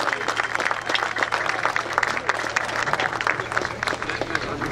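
Audience clapping after a dance performance at a folk dance gala in Argoncilhe, dense steady applause with a low hum underneath and some voices mixed in.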